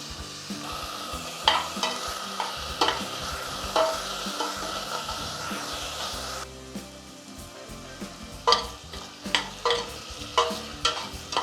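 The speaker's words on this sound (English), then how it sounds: "that's the last of the meat browning off in the pan there" Beef for chilli con carne browning in small batches in a hot pan, a constant hiss of searing meat broken by scraping stirs and knocks of a utensil on the pan, with a brief quieter spell midway.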